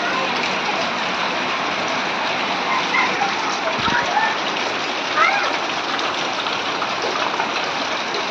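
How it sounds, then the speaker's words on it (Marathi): Rain falling steadily during the monsoon in Satara district, a dense, even wash of patter that stays close and constant throughout with no pauses. "आता 5 मिनिटामध्ये पाऊस चालू झाला. आणि काय येतोय पाऊस."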